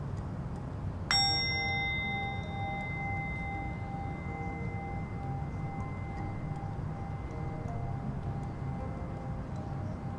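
A single bell struck once during a yoga session, a clear ringing tone with long overtones that slowly decays over several seconds against a quiet room hum.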